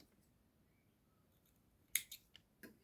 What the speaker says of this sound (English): I have to make 1 chain and cut the yarn